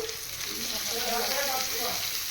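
Sliced onions dropped into hot oil in a kadai while cooking pasta give a dense, continuous sizzle that stays even and close throughout, with no voices.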